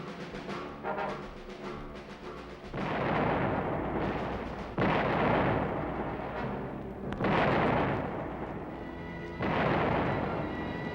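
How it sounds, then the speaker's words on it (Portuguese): Artillery fire during a military campaign: a series of about five heavy, rumbling blasts, each a broad roar that swells and lingers before the next, spaced a couple of seconds apart at a moderate distance. "a artilharia entrou em ação."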